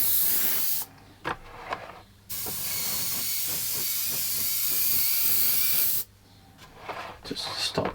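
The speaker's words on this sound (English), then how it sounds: "I'm going to use my matte varnish by Vallejo, and I've thinned it down quite a lot, and I'm going to spray from a bit of a distance" An airbrush sprays heavily thinned Vallejo matte varnish from a distance onto model railway weathering powders, giving a steady close hiss with two long bursts of several seconds, separated by brief pauses and small clicks.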